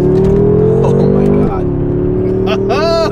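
A stock BMW M car pulls hard at full throttle, its engine note climbing steadily and loudly from inside the cabin, then a brief shift drop before the revs surge again.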